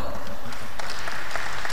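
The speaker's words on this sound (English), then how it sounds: "Can we get another round of applause for PVC Weber?" Brief applause from a seminar audience, a short spell of scattered clapping at moderate volume.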